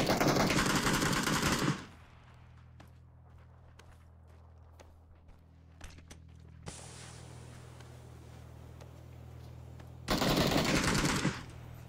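Bursts of MP7 submachine gun fire from a video game, loud and dense, opening the stretch and returning near the end, with quieter steps and ambience in between.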